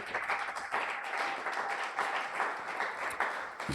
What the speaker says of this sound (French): Est-ce qu'on peut acclamer très fort pour Jésus? Acclame pour la gloire de Jésus.